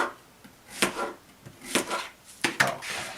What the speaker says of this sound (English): Little dead spot there, so we're going to cut that out.